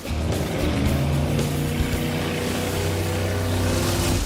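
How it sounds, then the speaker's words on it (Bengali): Several cars circle and drift through water, their engines droning steadily and loudly throughout, with a continuous low rumble and churning noise filling the scene. "3টে গাড়ি গোল করে ঘুরছে। ও ওরা তো জলের মধ্যেই ড্রিফট করছে"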